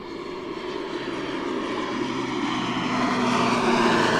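An airplane passes overhead with a steady propeller-engine drone that slowly grows louder across the whole stretch, loud and unbroken, with no talking.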